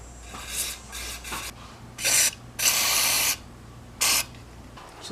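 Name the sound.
spraying mass airflow sensor cleaner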